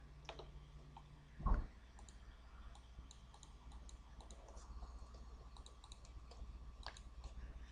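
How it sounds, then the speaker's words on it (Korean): A computer mouse's left button gives a single crisp click in a quiet room with a faint steady hum, while working in EdgeCAM lathe software. "이때 마우스 좌측 버튼 클릭."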